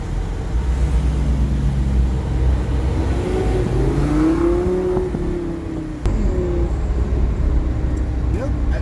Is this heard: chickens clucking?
no